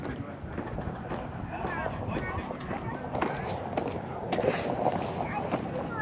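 Wind roars across the Mount Washington summit in New Hampshire, coming from the west onto the east side: a steady, loud, broadband rush with gusty swells that holds for the whole stretch.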